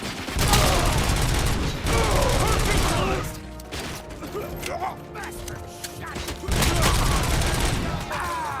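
Sustained gunfire in the video game RoboCop Rogue City, dense bursts of rapid automatic shots with a brief lull before the firing resumes, while voices shout over the battle.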